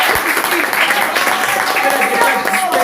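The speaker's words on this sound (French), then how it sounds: "Applaudissons pour le Seigneur." A church congregation breaks into dense, continuous applause, a loud wash of many hands clapping together with voices mixed in throughout.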